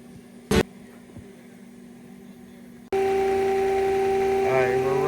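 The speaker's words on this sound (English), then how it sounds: "Alright, we're running. We're putting about 9 gallons a minute into the motor." Rebuilt Rexroth/Rineer hydraulic motor starting up under bench test, a sudden steady loud hum and whine kicking in partway through after quiet background with a single click.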